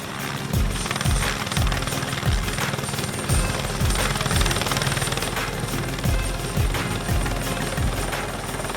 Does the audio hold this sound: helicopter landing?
yes